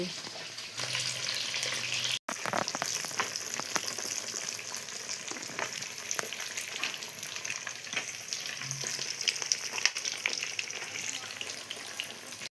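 Fish frying in hot oil, a steady broadband sizzle that runs through the whole stretch with scattered crackles and pops, close and fairly loud, with no speech over it.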